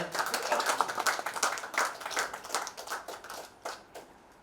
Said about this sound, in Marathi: अश्विनीला मी रंगमंचावर आमंत्रित करतो. जोरदार टाळ्या.